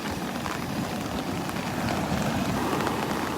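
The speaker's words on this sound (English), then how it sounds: "She's just dumping rain all along the Southwest Florida coast." Steady heavy rain pours down on Vanderbilt Beach along the Southwest Florida coast from the tail of Tropical Storm Sally, a dense, constant hiss with no voices.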